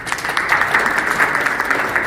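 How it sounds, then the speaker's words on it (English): At a tourism seminar the audience gives a presenter another round of applause, an even, sustained patter of clapping from a roomful of people. "Ladies and gentlemen, I think she deserves another round of applause."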